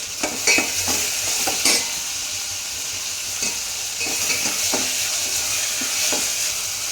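Tomatoes with salt sizzle in a hot pan while a spoon scrapes and stirs them in short irregular strokes, the frying hiss continuous and close with no talking.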